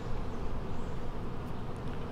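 Honeybees hum in a dense, steady buzz at an opened, queenless beehive on a cold day while the beekeeper applies a little smoke; the drone is continuous and close, with no talking.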